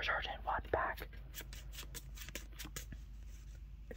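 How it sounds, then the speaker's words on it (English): Pokemon trading cards from an Elite Trainer Box are shuffled by hand at close range, a quick series of crisp flicks and riffles with a soft whispering voice heard near the start. "I'm sorry for shuffling them."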